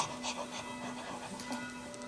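A person imitates a dog panting with quick, breathy, rhythmic huffs that run steadily and close up for about two seconds, with no words spoken.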